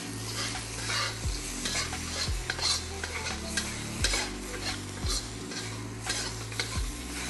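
Pork intestine stir-fried in a wok for a spicy, tangy chili dish, with a steady close sizzle, repeated scraping and tossing strokes and occasional metal clinks against the pan, with music playing underneath.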